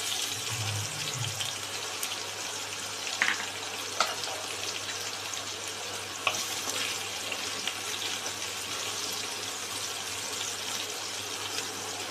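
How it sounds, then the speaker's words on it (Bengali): Chopped garlic frying in oil with black cumin seeds, a soft continuous sizzle with a few faint clicks of utensils, steady and unhurried, with no talking. "এবার এই কালো জিরাটার মধ্যে আমরা রসুন কুচিগুলো দিয়ে দেবো"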